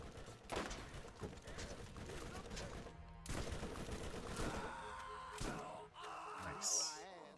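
Gunfire and shotgun blasts in the video game Borderlands: several sharp shots burst over a busy mix of game effects, with a voice heard in between.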